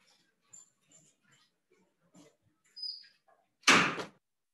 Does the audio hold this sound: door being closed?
yes